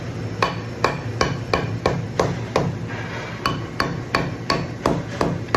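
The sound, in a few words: dead blow hammer tapping a part in a vise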